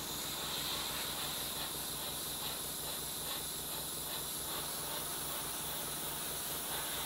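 Green paint hisses out of a sprayer onto a Trumpeter 1/35 scale ChTZ-65 model tractor, a soft, continuous spray that stays even from start to finish with no talking.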